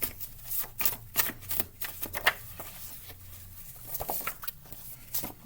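Cheap playing-style tarot cards shuffled quickly by hand, a fast run of soft flicking riffles and taps, close and fairly quiet over a faint low hum.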